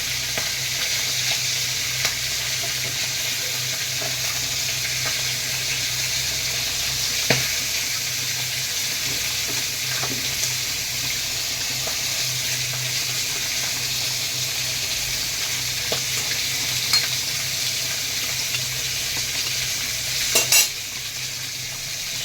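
A pot of cauliflower and potato curry simmers and sizzles in a steady, continuous hiss as fish pieces go in, with faint occasional clinks and soft splashes and no talking.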